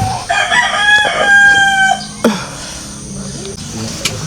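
A rooster crows once loudly and close on a farm in the Philippines, followed by a few softer clucks and faint background noise.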